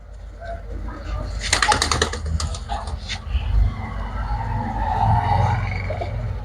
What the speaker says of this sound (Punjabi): ਖੜਤ ਫੜਤ ਦੇਖੋ ਕਬੂਤਰਾਂ ਦੇ